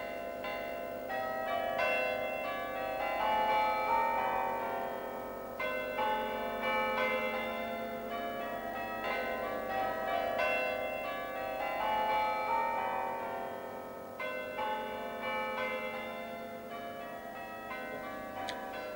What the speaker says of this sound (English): its church bells, surely among the most tuneful in England